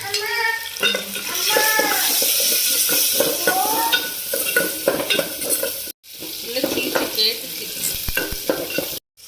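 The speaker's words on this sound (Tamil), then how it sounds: "சின்ன வெங்காயம் வரமிளகா தாளிக்கிறதுக்கு" Steady, loud sizzling of shallots and dried chilies frying in oil, with occasional stirring scrapes and brief clinks from the pan.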